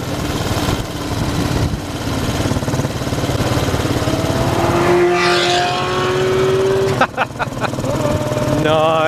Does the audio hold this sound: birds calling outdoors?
no